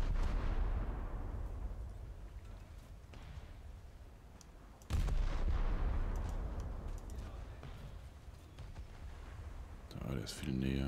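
Two heavy bomb blasts from the War Thunder game, each a sudden loud boom around the five-second mark and at the start, followed by long rumbling decay, with a voice talking over the battle noise.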